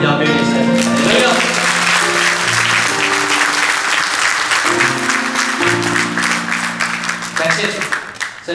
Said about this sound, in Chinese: 我们拍手荣耀归给神